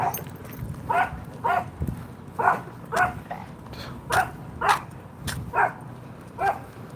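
A dog barks repeatedly, roughly a dozen sharp, evenly spaced barks at moderate distance over a low background murmur, with no talk in between.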